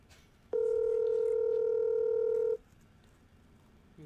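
A telephone call that goes unanswered: a single steady ringback tone sounds for about two seconds over a quiet room, then stops.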